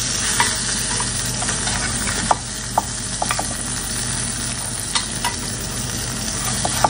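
Fish frying in a pan, a steady close sizzle with occasional sharp crackles and pops throughout, no voices.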